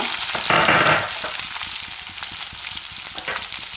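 Diced onion sautés in a hot pan with garlic for paneer chilli roast, a steady sizzle and fry with occasional stirring scrapes, close and continuous without talk.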